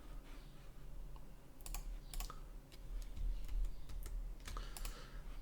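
Keys pressed on a computer keyboard during 3D modelling work, scattered sharp clicks and short bursts of several quick taps spread across the stretch, close and fairly quiet over a low background hum.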